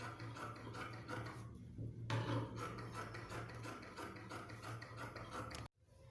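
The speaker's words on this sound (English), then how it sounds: "So I'll go ahead now and cut this to panel." Scissors cutting out a fabric panel for a pencil skirt, with close, soft rasping and rubbing of blades through cloth over a low steady hum, then an abrupt cut to near silence at the end.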